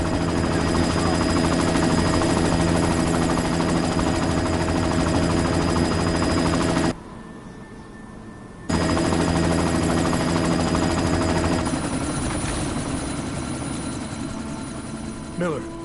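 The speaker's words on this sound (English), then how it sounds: "You've got to stop that chopper." A helicopter in the Deus Ex video game drones with a steady, loud rotor and engine hum, cutting out briefly before resuming and gradually thinning, with game effects layered over it.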